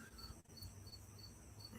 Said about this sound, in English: I do hear a couple back there chirping away.